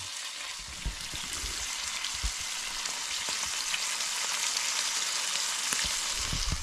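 Steak and tomato burgers fry in a pan at a windy Crinkle Crags camp, giving a steady, close sizzle with a few faint clicks and no talking.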